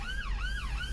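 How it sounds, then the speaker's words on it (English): Police car siren wailing nearby, a loud rising and falling tone over a steady low rumble of road noise. "the police cars, the sirens are going off"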